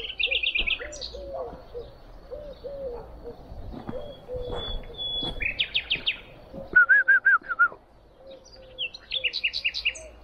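Small birds chirp and tweet outdoors at a house-building site, with repeated bursts of high twittering calls near and far, mixed with cooing and other bird calls over a low background hum.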